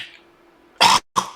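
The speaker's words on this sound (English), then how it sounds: "you'll notice I'm now coughing" Two harsh coughs close to the mic, the first longer than the second, after a quiet breathy stretch.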